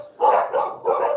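Dogs bark three times in quick succession, loud and close, each bark a short full-bodied burst, with nobody talking over them.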